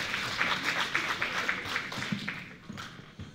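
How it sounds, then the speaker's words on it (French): Audience applause for a doctor about to speak on nutrition at a hair conference, a steady wash of many hands clapping close by with no voices over it. "Et applaudissez-le très fort,"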